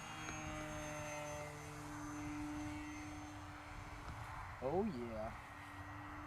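A Hobby King Durafly Tundra V2 1300mm RC airplane on its maiden flight hums with a steady electric motor whine at moderate distance, a short pitch swoop as it passes, and someone speaking briefly over it.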